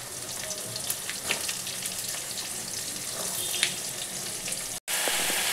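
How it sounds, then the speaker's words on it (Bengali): Sliced ridge gourd frying with cumin in hot oil, a steady hissing sizzle broken by occasional crackles and stirring clicks, close by and with no talking. "আর এইবার এই ঝিঙেগুলো ওই তেলটার মধ্যে আমি ভালো করে ভেজে নেব।"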